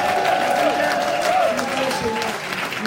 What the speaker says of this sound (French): Applaudissons le nom du Seigneur